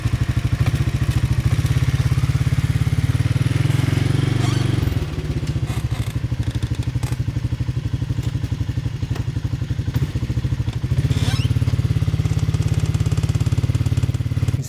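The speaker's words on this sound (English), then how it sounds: "I figured I would just drive around and then slowly put the blade down and then pull it forward." An ATV engine chugs and revs steadily as it drags a Black Boar leveling blade through lawn dirt, loud and close, with the pitch dipping midway before it picks back up, plus faint clatter.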